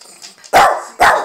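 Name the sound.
dog barking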